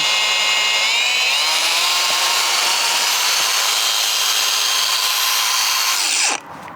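A Makita DGA463Z brushless angle grinder runs at full speed with a loud, piercing, steady whine close by, then spins down abruptly near the end.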